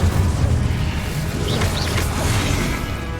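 An Incendio fire spell cast in Hogwarts Legacy, a loud, sustained roaring whoosh of flame with dull rumbling underneath, heard without talk.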